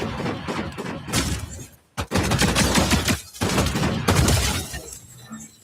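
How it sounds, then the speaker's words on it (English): Bursts of video game gunfire crack out in rapid volleys, a loud rattle of shots broken by a brief gap near the middle and fading near the end. "They're shooting at a distance."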